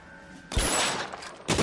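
Two sharp gunshots in the LA Noire video game, a loud crack followed by a short ringing tail and a second shot a moment later, close and without talk.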